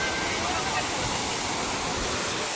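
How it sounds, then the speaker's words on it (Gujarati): Water roars continuously through a rocky gorge at the Khodiyar temple at Galdhara, a dense, steady rush filling the scene, with a voice faintly present underneath. "અંદર પાણી છોડ્યું છે"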